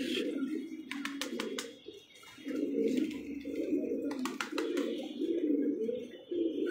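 Pigeons give a steady, close, low throaty cooing in rolling phrases, with a few faint chirps from other birds in the background.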